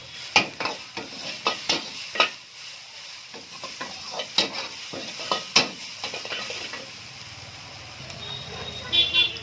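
Sliced capsicum, carrot, cabbage and chopped onion stir-fried over a raised flame at a fast-food stall, with a bed of sizzling oil broken by repeated sharp scrapes and clanks of a spatula against the pan, close and busy.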